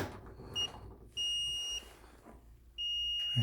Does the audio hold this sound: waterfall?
no